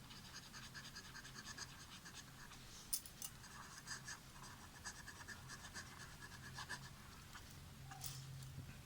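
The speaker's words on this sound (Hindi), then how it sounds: "तो मैं यहाँ पे लिखती हूँ टोटल नंबर ऑफ" Hand writing out a math solution, faint scratchy pen strokes on paper in short irregular bursts, quiet and close with a light background hiss.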